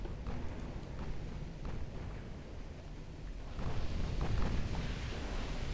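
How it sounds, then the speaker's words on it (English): A torpedo detonates against an enemy warship in the naval game Ultimate Admiral Dreadnoughts, a dull, rumbling boom that lingers as a heavy low roar and swells again toward the end, with no voices. "Torpedo detonation on an enemy warship."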